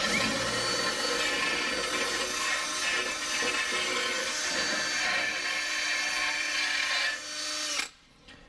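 A power drill fitted with a deburring bit grinds against metal in a loud, steady, high whine that runs for nearly eight seconds. It then winds down abruptly into near silence.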